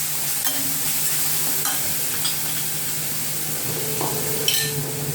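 Ginger, chili and garlic paste frying in hot oil for dal, a steady close sizzle with a few stirring scrapes of the spoon throughout, no voices.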